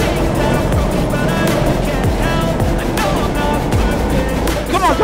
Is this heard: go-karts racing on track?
yes